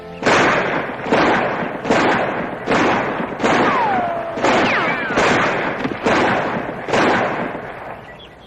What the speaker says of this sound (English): I didn't think anybody could shoot like that.